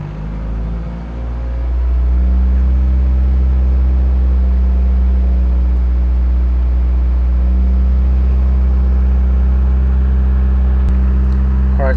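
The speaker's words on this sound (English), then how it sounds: "It's running rough again to the point where it's going to stall. So as I press the gas, the vehicle picks up once again." A Toyota Celica engine with misfire codes P0171, P0300 and P0301 idling roughly, then revving and holding a loud, steady, droning hum close to the microphone after about two seconds.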